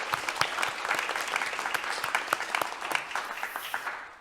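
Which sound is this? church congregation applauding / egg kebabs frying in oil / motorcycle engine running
church congregation applauding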